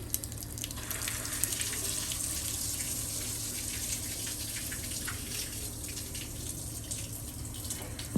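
Water rushes steadily through a reverse osmosis membrane system after its valve is opened all the way, a constant hissing, tap-like flow close by with no talking over it.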